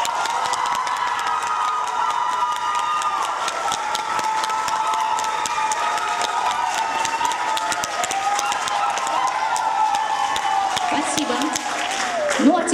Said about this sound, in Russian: Итак, мы аплодируем Шадубе Елизавете.